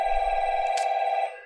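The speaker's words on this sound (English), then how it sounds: "and the phone's ringing." A telephone rings with a bright electronic tone, one sustained burst of about a second that cuts off, loud and close, with a brief low rumble at the start.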